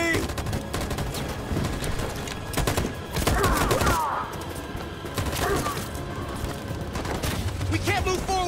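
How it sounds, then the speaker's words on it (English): Machine gun fire in Detroit: Become Human, dense rapid bursts of shots rattling loudly and close, interspersed with thuds and debris, with voices talking amid the fusillade. "That machine gun has taken down everything"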